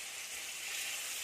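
Garlic and ginger sizzle in hot oil, giving a steady, soft, even hiss that carries on alone without pause.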